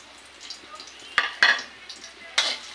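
Stirring in a hot pan while vegetables such as carrots fry for pork calderita, with a steady low sizzle and a few sharp scraping clicks of a utensil against the pan.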